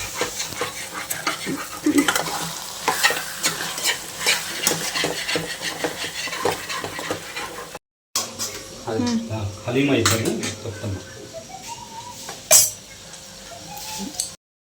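Repeated scraping and clinking of a spoon stirring in a pan, with a sizzling background and a brief pause midway, a few sharp knocks near the end.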